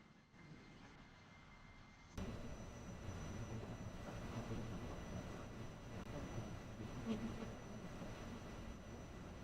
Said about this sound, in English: Engage toga. There we go, takeoff thrust is set.